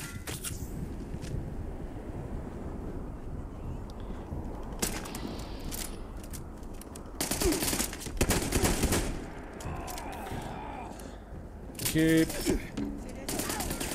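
Shotgun fire in Fallout 76, several loud blasts in bursts amid busy combat noise, with a voice speaking briefly.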